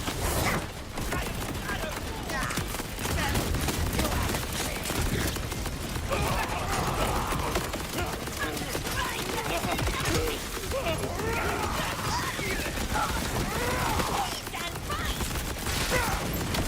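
Rapid bursts of gunfire from a gun in Borderlands 4 crackle on steadily alongside mechanical clatter and in-game effects, loud and dense throughout, with a voice heard in the mix.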